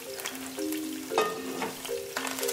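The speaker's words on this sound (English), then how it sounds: "And then we're gonna fry the zucchini." Sliced zucchini frying in a pan, a steady close sizzle with a brief louder clatter of stirring near the middle, faint steady tones running underneath.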